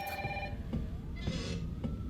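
A telephone rings inside a Resident Evil game, with the electronic ring repeating in short bursts against a steady low background hum.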